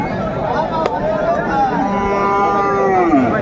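Cattle lowing at a busy cattle market in Noakhali, among Friesian and crossbred bull calves: long drawn-out moos ring clearly over a low murmur of crowd noise.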